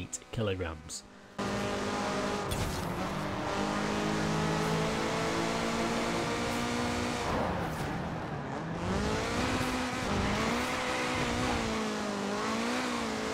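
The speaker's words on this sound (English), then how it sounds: "number 10 on the list is the Opel Kadett with 548" An Opel Kadett's engine in Forza Horizon 4 revs loud and close, rising and falling through gear changes for long stretches, with someone talking over it.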